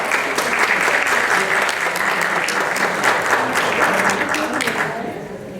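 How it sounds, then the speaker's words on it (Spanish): Audience applause at a forum, honoring a doctor, as a steady, full round of clapping from a crowd that holds throughout and begins to taper at the end, with some voices mixed in. "Aplausos para ella."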